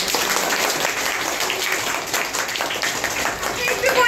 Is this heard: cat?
no